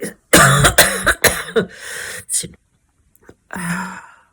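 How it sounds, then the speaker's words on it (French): A person with a tight, congested chest coughs in a rapid, harsh burst of several coughs, pauses, then coughs once more, close and loud. "De tousser comme ça, et c'est comme ça tout le temps, toute la nuit"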